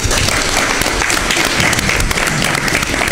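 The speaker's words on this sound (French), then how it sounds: "Mais merci de l'applaudir." Studio audience applauding during a live midday broadcast, loud continuous clapping close by with a full, even texture throughout.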